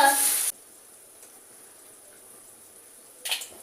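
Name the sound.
Nol papad being fried quickly in hot mustard oil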